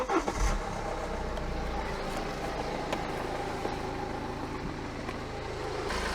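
A diesel engine cranks and catches with a short burst, then settles into a steady, moderately loud idle with a continuous low rumble.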